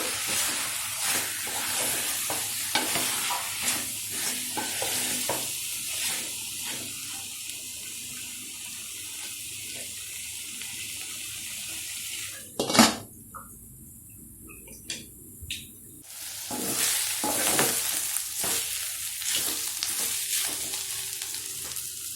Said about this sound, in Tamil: உப்பு சேர்த்துட்டு நல்லா கிளறி விட்டு மறுபடியும் மூடி போட்டு நல்லா வேக வைக்கலாம்